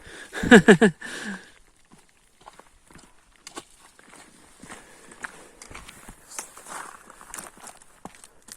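Footsteps move downhill on a wet, rain-soaked mountain trail near Rifugio Tolazzi in Forni Avoltri, with scattered soft crunching and slipping steps close by. A brief vocal burst comes near the start.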